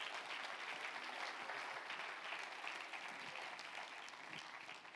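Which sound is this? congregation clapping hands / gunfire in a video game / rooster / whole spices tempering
congregation clapping hands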